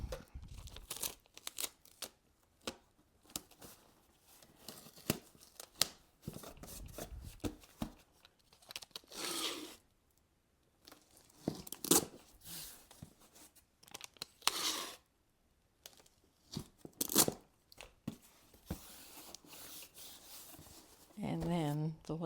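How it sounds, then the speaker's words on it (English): Packing tape pulled off a roll and pressed over the flaps of a shipping box, heard as close, irregular tearing, crinkling and rubbing bursts with short pauses between them. "You really have to put a lot of tape over that."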